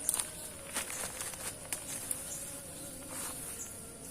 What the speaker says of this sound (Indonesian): Dan lebah jenis api cerana ini,